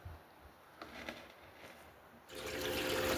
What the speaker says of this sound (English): we got the cleanup sluice ripping right now